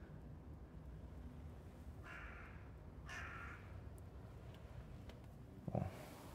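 A crow caws outside an apartment window in Versailles, two short harsh calls in the distance over quiet steady background hiss, with a louder nearby knock near the end.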